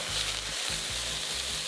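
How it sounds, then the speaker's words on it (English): Cooking wine added to a hot pan for sapo tofu with seafood gives a loud, close, continuous sizzle and hiss with faint stirring pulses, with no talk. "Then, add cooking wine."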